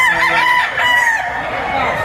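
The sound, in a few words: roosters crowing at a gamecock market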